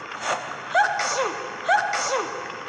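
A sneeze sound effect in the Boku Boku game: two quick, near and clear sneezes, each preceded by a short breath, over faint background music.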